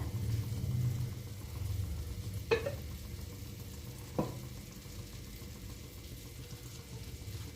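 Marinated chicken dropped into melted Amul butter over a low flame, a soft steady sizzle with a couple of sharp stirring clinks, no talking.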